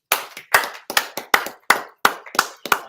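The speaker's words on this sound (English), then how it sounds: "so clap it up" Rhythmic, sharp hand claps from a congregation at a Sabbath service, close and crisp, landing in a steady beat of roughly paired strikes with nothing else heard.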